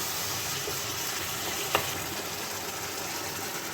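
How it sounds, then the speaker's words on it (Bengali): Tomato puree sautéing in a pan for a Bengali chicken and potato curry, giving a steady, even sizzle with one brief sharp click partway through and no voices. "টমেটোর পিউরিটা দিয়েও কিন্তু ভালো করে কষিয়ে নিতে হবে যতক্ষণ না টমেটোর কাঁচা গন্ধটা চলে যাচ্ছে"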